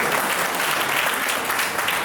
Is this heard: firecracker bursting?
no